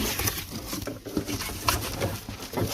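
Pigeons kept on a rooftop coo in low, repeated soft calls scattered through the moment, close by, with faint rustling and patter around them and no clear speech.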